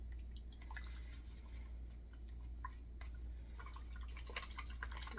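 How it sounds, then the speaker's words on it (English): A thin, decoupage-like glue mixture stirred by hand, producing quiet wet dripping and sloshing sounds close by, faint and steady with no talking. "Mix it all up real good."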